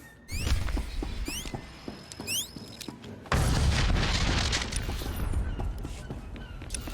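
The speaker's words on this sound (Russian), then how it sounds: "И еще один взрыв." In the video game Star Wars: The Old Republic, a sudden loud explosive boom bursts in partway through, followed by a rumbling, crackling roar, after a stretch of sharp chirps and small rattling impacts.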